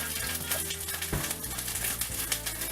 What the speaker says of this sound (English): let's move our meat into the skillet